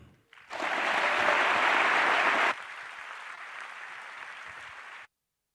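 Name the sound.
audience applause at opening ceremony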